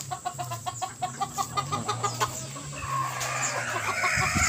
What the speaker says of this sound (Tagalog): Aking manok, aking mga manok ah, talagang gutom na sila.